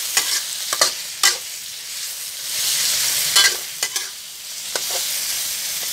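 Pork and asparagus stir-frying in a pan with chili paste to come, a steady bright sizzle broken by repeated scraping and clattering strokes of the spatula, close and fairly loud with no voices.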